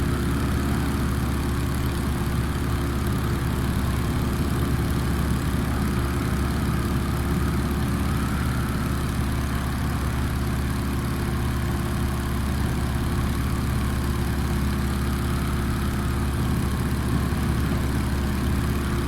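Steady, unbroken drone of a Stearman 75 biplane's radial engine and propeller in cruise flight in a flight simulator, a constant low rumble with no pauses.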